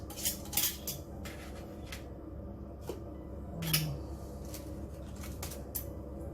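A small spoon clinks and scrapes as salt is scooped and added while cooking avocado with egg in an oven toaster, several sharp metallic ticks spaced through a quiet kitchen with a low steady hum beneath.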